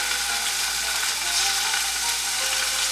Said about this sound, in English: We're just going to brown them on at least one side.